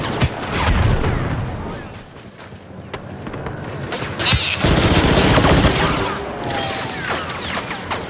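Rapid bursts of blaster gunfire from a Star Wars Battlefront 2 battle crackle continuously at close range, with explosive booms and crashes mixed in and a player's voice speaking now and then over the din.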